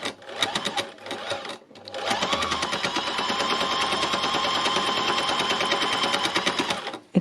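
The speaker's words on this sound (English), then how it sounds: "I have found an embellishing machine to be just like the best thing since sliced bread." An embellishing machine stitching into a fairly hard fabric, a loud close rapid mechanical needle chatter that starts briefly, pauses, then runs steadily for several seconds before stopping.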